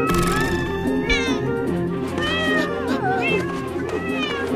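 A cat meows several times in rising and falling wails over steady background music, the calls fairly close and clear, drawn out and overlapping.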